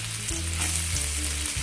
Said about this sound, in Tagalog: Mas maganda po kasi pag igisa ng konti itong sibuyas at saka bawang para mabango.